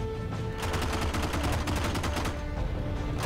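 A turret-mounted machine gun in the video game Heroes and Generals fires a dense, steady stream of rapid shots, loud and continuous over a noisy battle backdrop.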